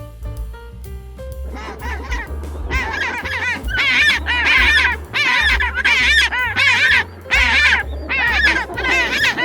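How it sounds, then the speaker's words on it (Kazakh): Penguins call in loud, repeated honking brays, several harsh bursts in a row, close and clear over a low steady background. "Балалар, бұл пингвин."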